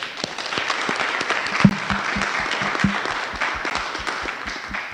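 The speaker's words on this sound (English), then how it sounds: "If y'all could give George a round of applause." A small crowd at a community overdose awareness event gives George a round of applause, loose hand claps close by with a few sharper individual claps standing out, steady for the whole stretch.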